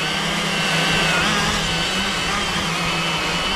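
A chainsaw cuts through a tree during tree work, a loud continuous high-pitched motor whine with a steady buzzing drone held for several seconds, close by.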